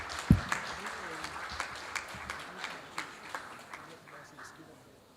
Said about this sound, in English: Ladies and gentlemen, a warm applause for Mrs. Adebomi Wellington Ogunlewe.